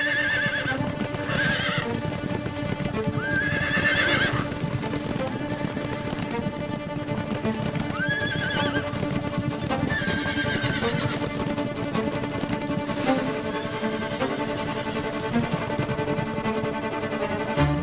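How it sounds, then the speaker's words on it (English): Wild horses on the windswept Patagonian steppe whinny and neigh several times over a steady clip-clop of hooves, loud and close, with no talking. "herds of wild horses appear like living symbols of freedom and endurance"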